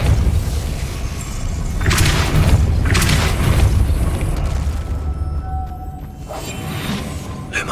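Depulso repelling spell in Hogwarts Legacy, heard as loud booming blasts and whooshing bursts in quick succession, followed by a quieter stretch with a rumbling low bed of game ambience.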